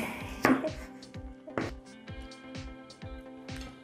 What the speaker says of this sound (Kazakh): Домалақтап турап алып, ұзын-ұзын қылып турап, одан кейін 4 бұрышты қылып тураймыз.